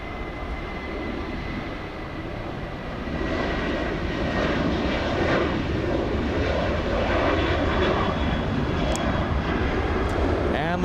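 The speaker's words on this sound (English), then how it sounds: "We have Delta's 2450 flying to Portland, Oregon, a 737-800." A Delta Boeing 737-800 jet takes off at LAX bound for Portland, its engines building into a loud, continuous roar that grows slightly stronger and holds steady throughout.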